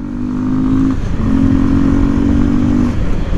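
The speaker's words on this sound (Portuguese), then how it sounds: "Aí já vou de moto," A Yamaha Lander 250 motorcycle runs close by with a steady, loud engine drone that briefly dips as the rider shifts gear and then holds at an even pitch.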